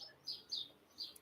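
Faint, high bird chirps outside, a few short tweets scattered at a distance over a quiet background.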